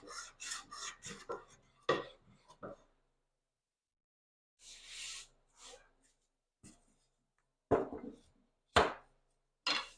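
A hand plane shaves the high spots off a large walnut board in scattered swishing strokes, some soft and some sharp and scraping. The strokes come close by, with quiet gaps between them.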